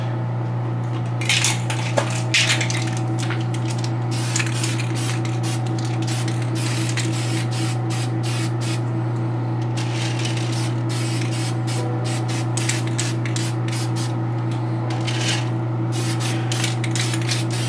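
Dull coat varnish sprayed from an aerosol can onto a painted figure, a steady close hiss running the whole time with repeated short bursts of spray over a constant low hum.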